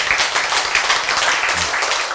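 Church congregation clapping during a sermon, a dense, steady wash of many hands applauding together, loud and close throughout.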